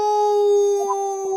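A person imitates a howling dog with a loud, steady, siren-like tone held evenly for over a second, with faint sounds at the very end.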